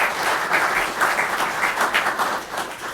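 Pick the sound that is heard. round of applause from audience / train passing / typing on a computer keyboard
round of applause from audience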